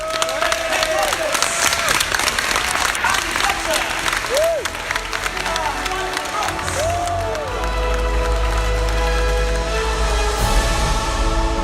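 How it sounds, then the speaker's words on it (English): An expo audience gives a round of applause and cheers for Jurassic World Evolution developer guests, loud sustained clapping with crowd noise, while tonal electronic sounds and a deep low rumble come in partway through. "please, a huge round of applause for our Jurassic World Evolution guests today"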